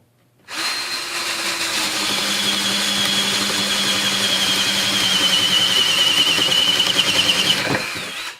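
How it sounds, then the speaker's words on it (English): A Ryobi 18-volt One Plus cordless drill spins up and bores through wood in one continuous, loud, close whirring run of about eight seconds, its pitch wavering under load before it cuts off. "Drilled right through it."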